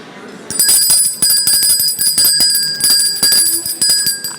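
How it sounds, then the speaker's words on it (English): Small hand bell rung repeatedly at a cooperative hall of fame dinner to call the room to order, about eight bright ringing strikes in quick succession, close and loud with slight room noise. "I love this little bell. It's effective."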